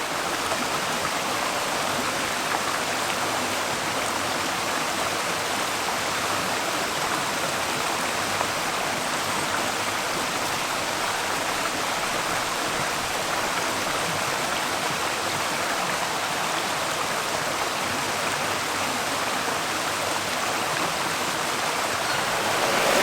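A small stream cascading through Padley Gorge in the Peak District, giving an unbroken, even rush of water that holds steady throughout, no voices.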